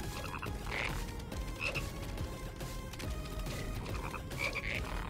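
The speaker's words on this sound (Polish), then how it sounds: "Jak oni fajnie rechotają." A chorus of frogs croaks in Final Fantasy VII Rebirth, with steady repeated ribbits over a dense, continuous wash of ambient game sound at moderate loudness.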